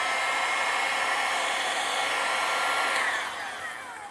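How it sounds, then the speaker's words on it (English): A heat gun blows steadily while shrinking heat shrink tubing on RC car wiring, a loud, even, close whooshing hum that tapers off as it is switched down at the end. "I'll pull the shrink tubing up there, hit it with a heat gun real quick"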